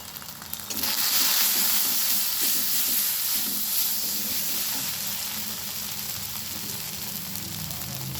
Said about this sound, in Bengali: এবারে ভালোভাবে মশলাটা কষিয়ে নেব